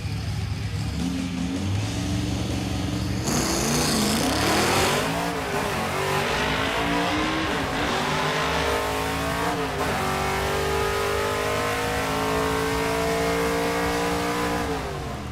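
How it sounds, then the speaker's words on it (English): A '56 Chevy field car makes a hard drag-strip launch, its engine revving up loud and close, then pulling steadily through gear changes as it accelerates away, with a roaring, rising engine note and no talk. "I want to see a good hard launch"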